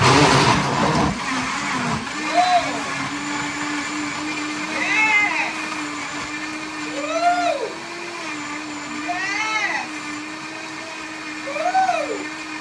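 A kitchen blender grinds peanuts for Caribbean peanut punch, a steady motor whine running loud and continuous, with pitch rising and falling as the load shifts.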